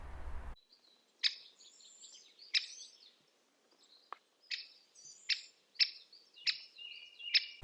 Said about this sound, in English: Or the chick of a great spotted woodpecker.